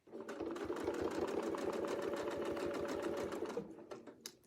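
A sewing machine runs steadily for about four seconds while stitching a quilting line with a Westalee Gateway Flying Squares ruler, its fast, even needle rhythm loud and close, then it slows and stops.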